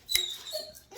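A pet dog at home gives a sharp yelp near the start, then a thin whine and whimper, excited as a family member arrives; close and brief, no talk over it.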